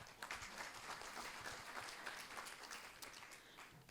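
Steady, fairly quiet applause from an audience greeting a speaker at the opening ceremony of an international conference on the economic Francophonie, a dense patter of many hands clapping continuously throughout.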